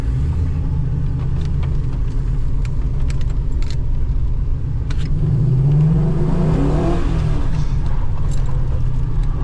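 Engine of a 1949 Chevy truck fitted with an LS V8, heard up close as a loud, steady rumble with a rising rev surge partway through, plus scattered light rattles and clinks.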